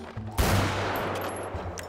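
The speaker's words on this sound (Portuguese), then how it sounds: "O tiro faz o barulho." A single gunshot in GTA 5 roleplay cracks out sharply and loud, followed by a lingering rumbling noise bed and a few faint high tones.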